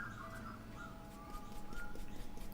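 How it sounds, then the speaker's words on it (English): Pigeons or doves cooing outside a glass door, soft low coos repeating over a steady hum of room noise, muffled and moderately distant. "No, this is the birds."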